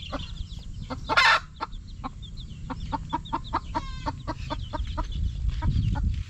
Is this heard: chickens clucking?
yes